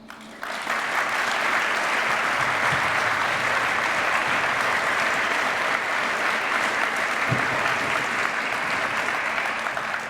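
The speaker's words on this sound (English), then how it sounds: "you guys owe the senior staff at Boys State a round of applause" An audience at a Boys State alumni night breaks into loud, sustained applause after a brief quieter start, many hands clapping densely and evenly for about ten seconds.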